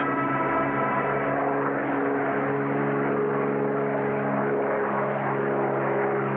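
A small propeller aircraft flies low over a Camaracoto Indian village before landing, its engine droning steadily and loudly with strong harmonic tones throughout, close and continuous with no voices.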